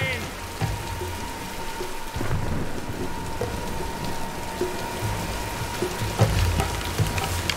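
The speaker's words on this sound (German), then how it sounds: "Nein, wir warten den Sturm ab." A rainstorm with thunder in the Tomb Raider video game: steady heavy rain hisses throughout, broken by several low thunder rumbles and cracks, with some voices faintly present.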